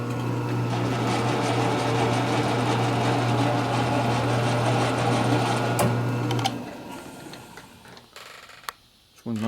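A lathe recutting a damaged thread on a Harley panhead race-motor part whirs steadily up close with a mechanical hum and ticking, then winds down and falls quieter near the end, with brief light clicks.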